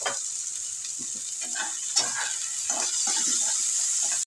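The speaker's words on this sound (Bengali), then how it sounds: "ভালো করে এবার আলু আর পেঁয়াজটাকে ভালো করে ভেজে নেব" Potatoes and onions frying for semolina upma give a steady close sizzle, with a few soft stirring scrapes now and then, no voices.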